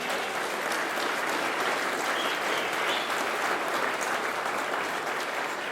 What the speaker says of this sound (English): So you can give them a round of applause, please.